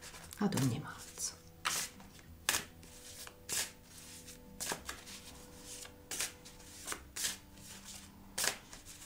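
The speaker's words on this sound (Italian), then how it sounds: "Mescolerò le carte" Tarot cards are shuffled by hand in a quiet ASMR setting, a series of crisp riffling bursts roughly once a second, close and soft, with a voice briefly present near the start.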